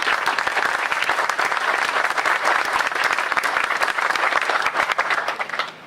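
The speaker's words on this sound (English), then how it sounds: "I think they deserve a round of applause." Audience members at an event presenting Fort Hood housing funds applaud, sustained crisp clapping from a modest crowd that holds steady and then tapers off at the end.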